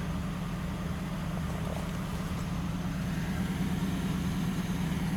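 A 1940 LaSalle Series 52 engine idling steadily, a smooth, continuous low rumble held at an even level throughout, with no voices over it.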